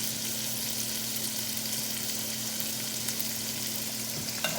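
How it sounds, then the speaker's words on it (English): Hanging tender beef searing in a hot pan, a steady close crackling sizzle with a faint low hum underneath and a small clink near the end, no voices. "we're just going to move this in the pan, make sure we're getting a nice even sear"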